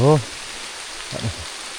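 Rain falls outdoors at night as a soft, even hiss that runs throughout, with brief voices at the start and again near the end.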